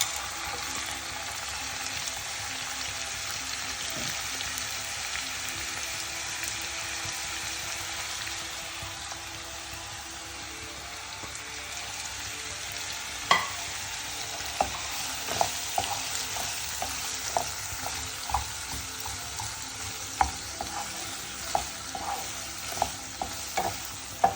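Ginger, garlic, onion and curry leaves frying for buffalo meat fry, a continuous sizzle that turns into quick repeated spoon scrapes and taps against the pan in the second half, close and unaccompanied by talk.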